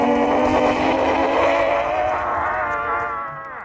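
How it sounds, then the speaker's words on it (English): Zombie moaning from Black Ops 2 Zombies, a loud, steady, drawn-out groaning drone with wavering harmonics that holds for several seconds before easing off, with no talk over it. "I couldn't hear you over the moaning zombie."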